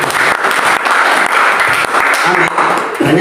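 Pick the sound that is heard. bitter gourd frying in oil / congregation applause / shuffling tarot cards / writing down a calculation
congregation applause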